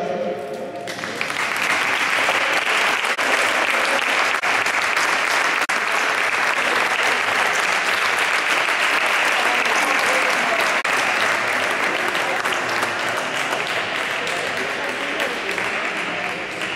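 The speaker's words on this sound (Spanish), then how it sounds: "Fuerte aplauso para ellos." Audience applause at a karate class exhibition in Azagra, a loud, sustained burst of clapping from a crowd lasting the whole stretch without a break.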